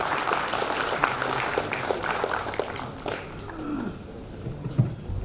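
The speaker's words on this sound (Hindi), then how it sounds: "आप ताली बजा सकते हैं" An audience at an award ceremony breaks into applause, a dense wash of clapping that holds steady for several seconds before thinning out, with a few faint voices mixed in.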